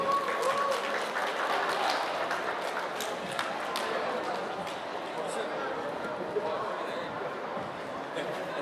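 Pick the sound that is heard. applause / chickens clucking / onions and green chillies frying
applause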